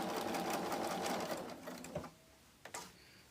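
A sewing machine stitches around the edge of a trapunto quilting piece, a close steady mechanical whir that slows and stops, followed by a few short bursts of stitching.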